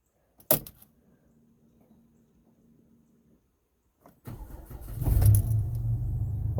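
A 2008 Chrysler Town & Country minivan with a coolant leak cranks and fires up after fuel pump priming, catching and running with a steady, loud engine rumble nearby, preceded by a brief click and faint hum.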